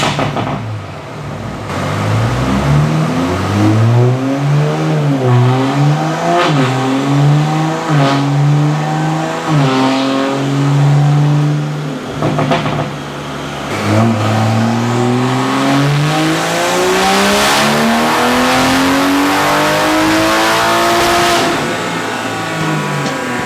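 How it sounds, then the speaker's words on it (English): A Toyota Supra with a B58 engine running meth injection roars on a dyno pull, loud and close, climbing through gear after gear in rising surges before a long final scream to high revs. "we will do a little dyno pull for you guys and kind of show you the numbers that it's currently making"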